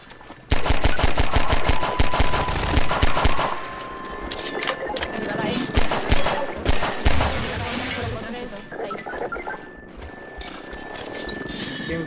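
Half-Life 2 combat opens with loud, rapid bursts of automatic gunfire up close, then thins into scattered shots and impacts over a steady game background.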